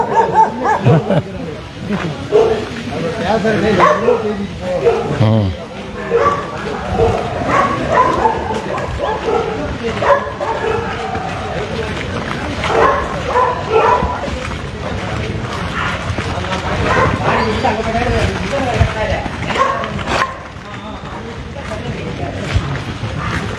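Dogs bark and yip intermittently in a residential street in Salem during a local inspection visit, mixed with people talking nearby and outdoor bustle.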